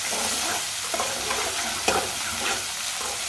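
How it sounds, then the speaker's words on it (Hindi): Tomatoes and green chillies fry and sizzle in a pan for dahi macaroni, a steady close hiss with a few sharper spatters and stirring clinks throughout. "टमाटर और सब्ज़ मिर्च को 2 मिनट के लिए पका लेते हैं।"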